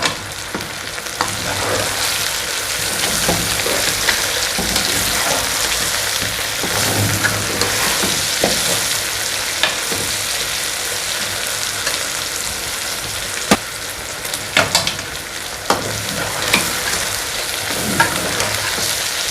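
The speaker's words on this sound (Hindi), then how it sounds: "इसको भी थोड़ा सा फ्राई करना है साथ, ताकि जो लहसुन की हीक सी होती है वो सालन में नहीं आए" Garlic and ginger paste sizzling steadily in a hot karahi for a Sindhi chicken karahi, a dense continuous frying hiss with occasional louder spatters and stirring, close and with no talk.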